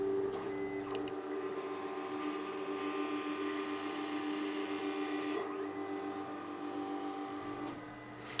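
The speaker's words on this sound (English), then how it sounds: "After the reference measurement, the rough grinding is done on the left station." SPA cross-section grinding machine running rough grinding on its left station for PCB samples, a steady close mechanical whir with tonal hum that holds level throughout, shifting slightly partway and easing off near the end.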